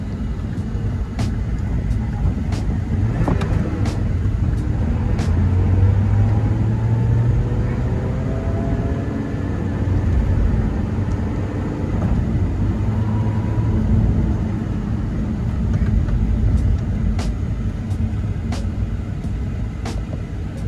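A 2024 Lotus Emira sports car drives while shifting through gears, its engine note rising and falling with each change, steady cabin rumble and a few faint clicks, no voices.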